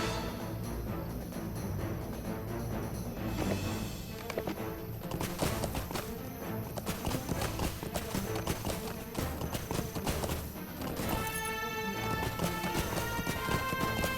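Horse hooves clip-clop in Lord of the Rings Online, mixed into a dense bed of game music and effects, with an occasional whinny and steady rhythmic steps throughout.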